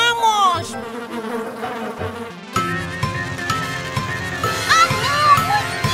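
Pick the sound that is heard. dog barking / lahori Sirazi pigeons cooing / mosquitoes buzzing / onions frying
mosquitoes buzzing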